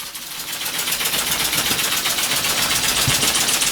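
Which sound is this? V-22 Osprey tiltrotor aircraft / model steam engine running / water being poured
model steam engine running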